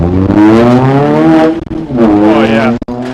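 A Fiat Panda 100HP race car engine revving loudly up close in a racetrack garage, with strong rising and falling tones and brief sharp cuts between revs.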